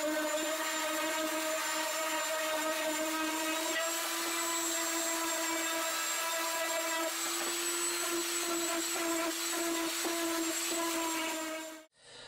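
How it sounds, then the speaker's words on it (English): A power sander working mahogany with 220 grit, a loud steady motor whine with a high constant tone, running without a break until it spins down near the end. "now I'll finish up everything with 220 just to make it really smooth and ready for finishing"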